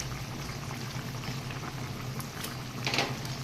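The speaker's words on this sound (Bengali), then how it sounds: "দেখুন ব্রোকলির ঝোল একদম ফুটে গেছে" Broccoli curry broth at a full boil in a pot, a steady bubbling simmer with a brief louder surge of bubbling near the end, close and alone with no talking.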